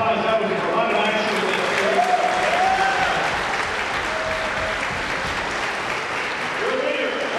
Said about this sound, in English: Ladies and gentlemen, let's have a big round of applause